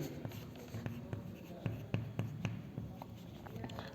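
A pen scratches across paper during an accounting lecture, with rhythmic strokes and taps up close over a low room hum, with faint murmuring in the background.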